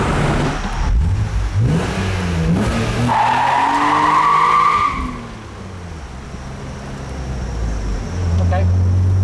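A car accelerates hard with the engine revving up through rising pitch and some tire noise, loud and close, while a person talks over it.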